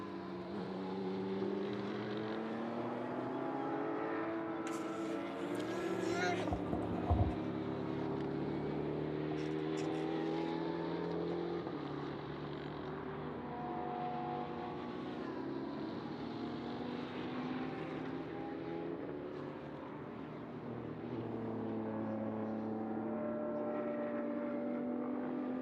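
Racing cars lapping the Magny-Cours circuit in France, among them race leader Sébastien Loeb's number 888 car, roar and whine continuously at close range, engine notes rising and falling as they pass, with no talk over them.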